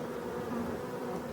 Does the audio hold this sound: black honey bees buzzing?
yes